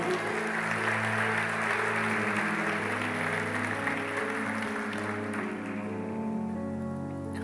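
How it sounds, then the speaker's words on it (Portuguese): A church congregation applauds during a service, a soft continuous patter of clapping heard under sustained organ or keyboard chords that carry on as the clapping thins out. "Se você crê, aplauda esse Deus maravilhoso"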